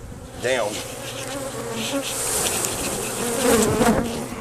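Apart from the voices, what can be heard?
swarm of bees buzzing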